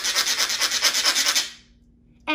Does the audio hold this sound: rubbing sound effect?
yes